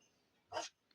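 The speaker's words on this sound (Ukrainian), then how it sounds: "Вона може лаяти, сидіти та ще їсти." A single short, soft bark from a dog in a video game, quiet and close against a faint background.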